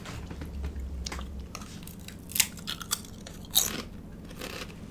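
Someone bites and chews spicy food close up, with soft crunching and wet mouth sounds and a few sharper bite clicks, no talking.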